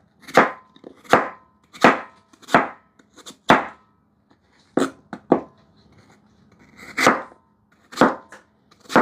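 A knife chops apples into small dice on a cutting board, about a dozen sharp, close thuds in an uneven rhythm, with short pauses between cuts and quiet room background.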